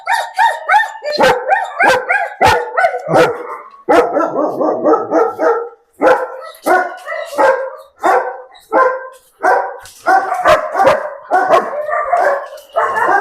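Several German Shepherd dogs at a dog farm in Bangladesh bark loudly and continuously nearby, deep overlapping woofs in rapid bursts with brief pauses, no voices.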